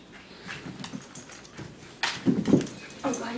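Shih Tzu puppies whimper and pant up close, small soft whines and breathy squeaks in uneven bursts that grow louder toward the end, with quiet talk in the room.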